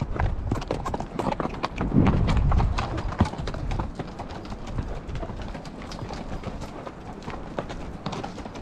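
Horses walking on a Tusher mountains trail, hooves clip-clopping in a loose uneven rhythm, close and distinct, with a brief scuffing rustle partway through.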